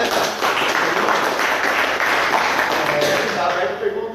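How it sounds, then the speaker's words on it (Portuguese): A round of applause from an audience at a startup talk, a dense steady clapping that fills the room for a few seconds and fades slightly at the end. "Salve de palmas."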